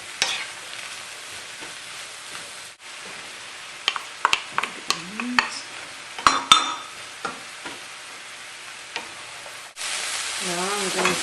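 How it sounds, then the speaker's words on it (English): Eggplant sautéing in a pan while being stirred for a lamb dish, a soft continuous sizzle with a burst of sharp utensil scrapes and taps in the middle and a louder sizzle near the end. "And you just kind of saute the eggplant a little bit."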